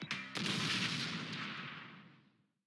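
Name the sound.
explosion like fireworks, from video game Danganronpa V3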